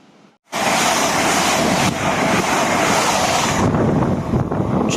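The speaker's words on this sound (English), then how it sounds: "Just past was the 13:28 Bristol Templemead to London Paddington service." A passenger train on the Great Western Main Line at Hanwell, running from Bristol Temple Meads to London Paddington, rushes past close by as a loud, sustained roar of wheels and wind that starts abruptly and holds steady.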